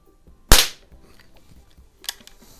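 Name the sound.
Crosman 760 .177 pellet rifle firing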